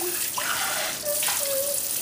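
Water runs steadily from a tap into a sink while pet rats are bathed, a constant close rushing with small shifts in the flow.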